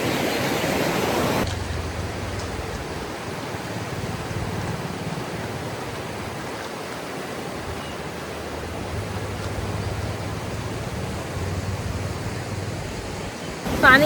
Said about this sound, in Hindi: ये सिंधु रिवर है, यहाँ से जा रही है, इसका फ्लो बहुत ज़्यादा है अभी तो